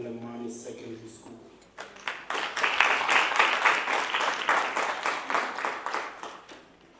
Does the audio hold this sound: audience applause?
yes